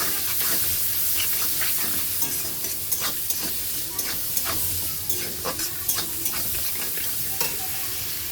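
Sliced onions with a pinch of salt fry in a pan for a Bengali chicken curry, giving a steady close sizzle broken by repeated scraping stirs, with no voices.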